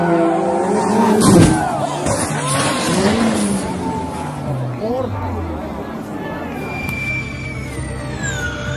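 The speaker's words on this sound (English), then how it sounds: "Eduardo Mortara, the championship leader, has aquaplaned off." A Formula E race car aquaplanes off through a massive puddle on a wet track, its electric whine and spray rushing loudly under excited commentary and crowd chatter, with a brief skid near the start.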